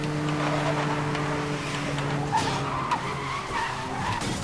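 Porsche tires skidding in the Need for Speed Most Wanted racing video game, a steady engine drone with sliding tire noise and a few sharp impacts, fairly quiet throughout.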